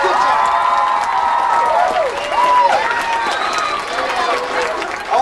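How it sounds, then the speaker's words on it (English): An audience claps and cheers steadily at a live comedy show, a dense crowd of applause with some whoops and voices mixed in, continuing throughout. "big round of applause"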